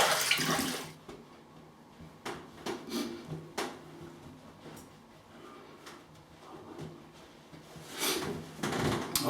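Running water splashes in bursts while a razor is rinsed off after a wet shave, the flow stopping and restarting with short clattering handling sounds between.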